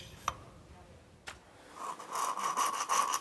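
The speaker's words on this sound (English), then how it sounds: "So I'm just putting a bit of grinding paste on the valve and then we're just going to lap the valves in a little bit more." Valves in a Ford Capri engine are lapped with grinding paste; a faint scrape, then a steady back-and-forth rubbing swish builds in the second half, close and fairly loud.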